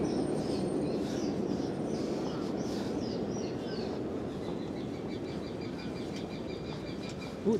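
Birds chirp and twitter against a busy, noisy Manhattan street background, with short high calls repeating near and far and no talking.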